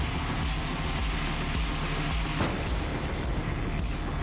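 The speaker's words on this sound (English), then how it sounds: "So the bombs will one-hit kill these tanks, but I'm not very good at aiming them." Bombs exploding on tanks in the video game Tonight We Riot, a dense run of booming blasts and bursts layered over continuous battle noise, loud and close throughout.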